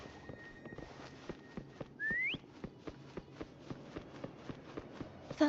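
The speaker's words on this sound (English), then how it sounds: "Try whistling." A character in the game Wuthering Waves whistles one short rising note amid a steady patter of footsteps, with a faint tonal hum in the background.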